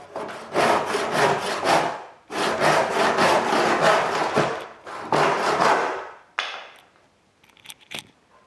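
Rhythmic strokes of a western hand saw with large, widely spaced teeth rasping roughly through wood, three long bursts of steady back-and-forth cutting, close and loud, followed by a few faint knocks.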